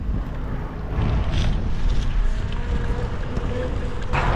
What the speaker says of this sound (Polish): Jest tak zimno i tak piździ, że niesympatycznie